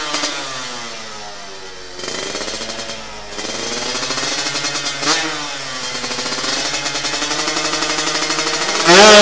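KR150 racing motorcycle with a 59mm piston and open carburetor running on a test track, its two-stroke engine buzzing loud and close with rising, rapid revs throughout.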